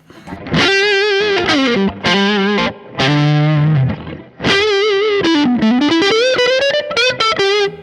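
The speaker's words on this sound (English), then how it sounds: "I really like the sound of this Exotic, which I believe is the Exotic BB Booster preamp" Overdriven electric guitar through a Quad Cortex capture of an Exotic BB Booster preamp pedal plays chords and bending lead lines with a warm, boosted tone, loud and up close, pausing briefly between phrases.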